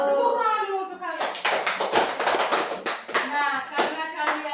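Schoolchildren in an Indonesian classroom clap their hands in a rhythmic patterned clap, brisk and close, with a teacher's voice before it and children's voices mixed in.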